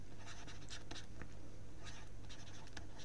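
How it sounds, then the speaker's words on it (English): Pen scratching out two words by hand on paper, a series of short close strokes over a steady low hum, with no talk. "I'll just write not allowed"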